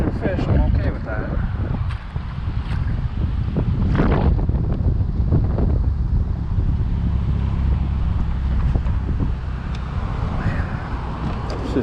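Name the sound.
strong wind on a lake while bass fishing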